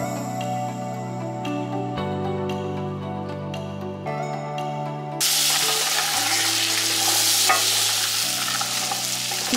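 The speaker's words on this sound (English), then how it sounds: "You're going to want to watch it and stir it frequently for about 4 to 5 minutes just to get a nice toast on these pecans." Pecans toast in a pan over medium heat as a spoon stirs them, first a gentle sizzle with scraping, then a louder, brighter frying hiss that runs to the end, close and without talk.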